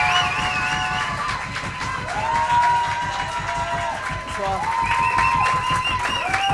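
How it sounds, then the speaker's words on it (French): A French television studio audience applauds and cheers as a guest is welcomed onstage, a dense steady wash of clapping and shouts with music tones running through it, sustained throughout. "Je vous demande d'applaudir quelqu'un"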